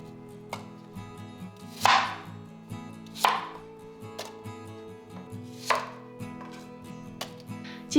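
A knife chops apples into large chunks on a cutting board, landing five or six distinct, sharp strikes at irregular intervals about a second apart over a low background hum.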